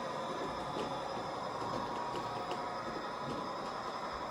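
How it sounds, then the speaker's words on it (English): Large-scale model trains roll over road crossings on an outdoor layout, a faint, steady rumble of wheels with light periodic clicks as cars pass over the track joints, no talking. "And they're running all kinds of trains over them just to have a look."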